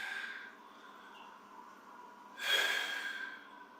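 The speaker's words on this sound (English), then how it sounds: "2 more deep breaths" Deep breathing during a yoga-style stretching session with spinal twists, a soft steady airflow followed by a louder, noisier exhale or sniff near the middle, with no talking.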